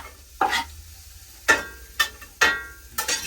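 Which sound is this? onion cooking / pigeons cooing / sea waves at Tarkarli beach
onion cooking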